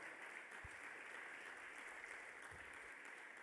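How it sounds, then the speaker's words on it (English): An audience at a blind cricket match event in India claps steadily and continuously, a dense, even patter of applause at moderate distance with no breaks. "And continue clapping for all of you, all the invitees, the media, our partners,"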